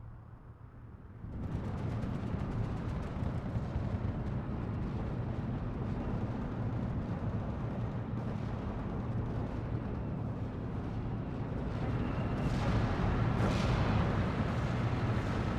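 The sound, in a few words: mortar and off-map artillery fire in video game Steel Division II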